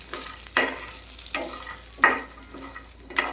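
Green chillies fry in a hot pan for ridge gourd coriander chutney, with a steady sizzle broken by several scraping stirs at a regular pace.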